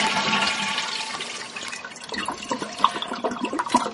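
Toilet tank drains with the flapper held up, water rushing out loudly and then tapering into gurgles and drips as the tank empties, close up with no talking.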